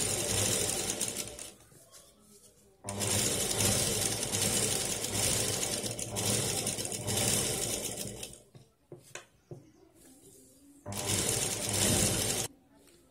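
Sewing machine stitching around the edge of a fabric shopping bag, running in loud bursts of several seconds separated by brief pauses and short starts, with someone talking over it.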